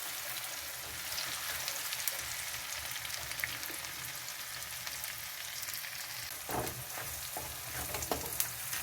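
Chopped onions fry in a pan, a steady sizzling hiss running throughout with a few louder crackles and a scrape of stirring near the end; no one talks.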